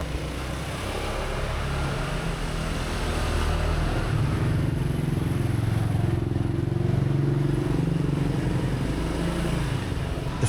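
Motorbike engines in a narrow Hanoi alley during rush hour: a continuous loud drone of small motors and passing traffic, close and steady throughout, with no talking.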